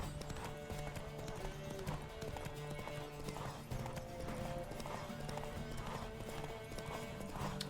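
Horse hooves galloping in a steady clip-clop rhythm across The Witcher 3 countryside, close and continuous, layered with game music and occasional whinnies.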